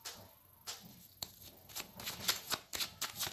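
A deck of tarot cards shuffled and cut by hand, giving a run of soft riffling rustles and sharp card slaps that grow busier toward the end, close up and fairly quiet, with no talking.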